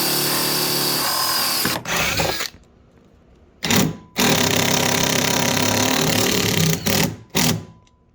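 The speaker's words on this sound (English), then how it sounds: "I'm actually going to put a screw in that one first so it doesn't move." A power drill drives a screw while a blower-style cab heater is installed on a CFMOTO ZFORCE side-by-side, with loud bursts of whirring motor broken by short pauses and a few brief final pulses.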